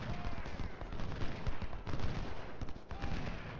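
Battlefield gunfire in the Civil War strategy game Ultimate General: Civil War, a dense, continuous roll of musket and artillery fire with overlapping shots that barely let up, heard alone without speech.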